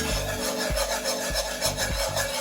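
A whisk scrapes repeatedly around a pan of cheese sauce for au gratin potatoes, producing rhythmic, close scraping strokes about every half second.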